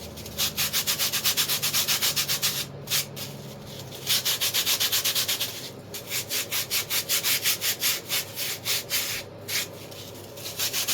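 Dry floral foam (oasis) is rubbed by hand to smooth it while building an artificial Easter cross arrangement, giving steady scratchy rhythmic rasping strokes, close and fairly loud, pausing briefly between bursts with no talk.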